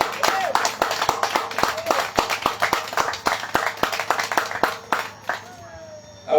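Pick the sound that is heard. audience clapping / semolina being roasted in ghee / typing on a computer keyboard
audience clapping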